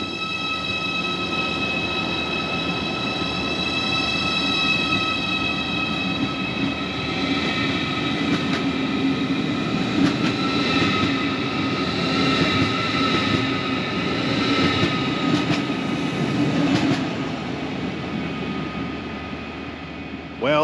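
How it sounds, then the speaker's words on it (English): A Deutsche Bahn ICE high-speed train pulls out of Leipzig station with a steady, loud rumble of rolling wheels and traction hum that holds for about twenty seconds, joined by brief higher tonal whines. "Well, that's my train away."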